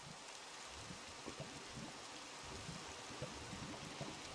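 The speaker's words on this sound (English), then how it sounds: "Rain's getting kind of annoying there." Rain falling in Minecraft, a steady soft hiss of drops that stays faint and even throughout with no voices.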